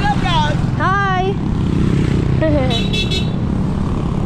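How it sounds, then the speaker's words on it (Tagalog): Motorcycles pass close by on a road while people talk over the steady engine drone, with a couple of horn toots mixed into the traffic noise. "Mukhang mabubungko tayo ng mga motor."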